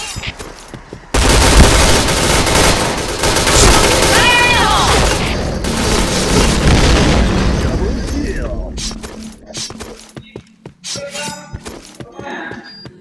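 Gunfire in the Point Blank online shooter, a loud sustained burst of rapid automatic shots with clattering effects, then scattered sharp reports and game noises as it thins out.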